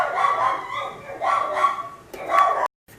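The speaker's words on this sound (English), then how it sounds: "the dogs keep freaking out" Dogs bark and yip in short bursts while construction goes on nearby, three loud close clusters of barking with whimpery tones, cutting off abruptly at the end.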